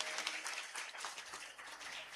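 Applause from a religious gathering during a Hanuman katha, a steady wash of many hands clapping that runs for about two seconds, with a voice faintly present underneath.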